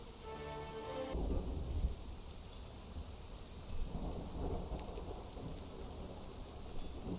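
Steady rain hisses in the video game Conan Exiles as thunder rumbles low and heavy through it, with deeper swells rolling in at intervals and no voices.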